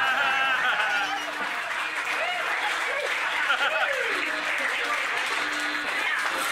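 A live audience at a surf guitar festival in Long Beach applauds after a rockabilly song, with steady dense clapping and a few whistled cheers rising over it for the whole stretch.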